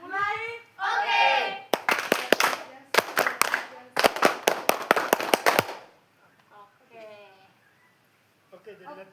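A group of children does a rhythmic scout clap, with sharp, close hand claps in quick patterned bursts, preceded and followed by people talking.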